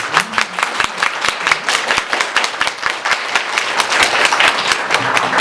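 An audience at a book talk with five women novelists bursts into loud, brisk applause, sharp overlapping claps filling the room and sustained throughout.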